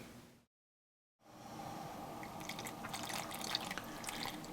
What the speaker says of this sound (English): You can see now that the water is beginning to flow and my grinds are getting saturated